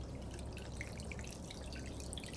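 Water pouring out of the outlets of a spinning, freshly filled bottle, a soft continuous splashing and trickling with scattered drips, quiet and close.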